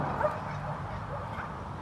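A dog riding in a truck tailgate yips once near the start, a short, fairly close bark over a low, steady rumble of background noise.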